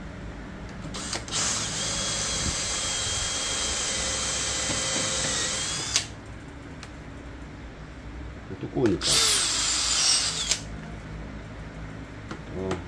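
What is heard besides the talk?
jigsaw cutting through a thick gear lever cover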